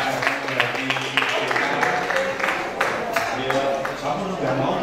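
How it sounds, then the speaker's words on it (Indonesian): An audience at a gathering honoring a karawitan composer gives warm applause, a dense patter of clapping mixed with talk over it throughout. "kita berikan tepuk tangan yang hangat untuk Bapak Muradi."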